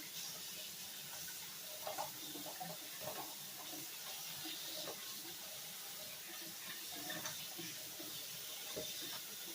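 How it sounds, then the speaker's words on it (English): Cold water runs steadily from a tap over fresh blueberries in a kitchen sink, a faint, even hiss and trickle with small splashes throughout and no talking. "It does say to wash them in cold water."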